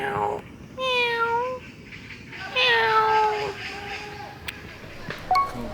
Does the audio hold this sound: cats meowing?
yes